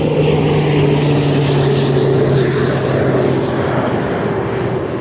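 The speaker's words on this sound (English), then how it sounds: "I got a little airplane hovering over real quick" A small propeller airplane drones steadily overhead, loud and continuous for the whole stretch, with a sustained low engine hum and a thin high whine on top.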